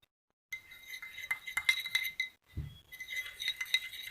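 A spoon clinks and scrapes against a glass bowl in quick, light, irregular taps while turmeric paste for dark circles is mixed, close and fairly quiet, with a brief pause midway.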